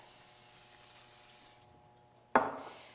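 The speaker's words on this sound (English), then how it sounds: "You want to spray the rack." Nonstick cooking spray released onto a smoker rack, a steady hiss for about a second and a half, then after a pause a sharp close clatter that fades quickly.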